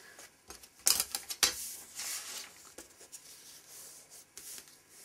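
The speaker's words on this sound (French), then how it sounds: "Marquer le pli." A tool scores a fold line into paper for a chocolate box, giving a few quick, close scraping strokes followed by softer rubbing.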